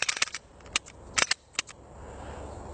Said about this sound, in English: Pull it to the rear, lock it to the rear, return the disassembly lever to its at-rest position there. And quick function check there.